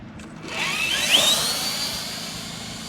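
An RC scaler truck runs in second gear, a high electric motor whine rising in pitch as it speeds up, loud and steady for about two seconds, then holding a continuous buzzing drone with no talk.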